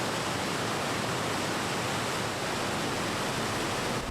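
A river on the Vermont–New Hampshire border flows in a dense, unbroken roar heard from a winter bridge crossing, loud and steady throughout.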